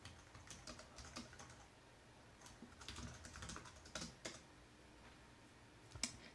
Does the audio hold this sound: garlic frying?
no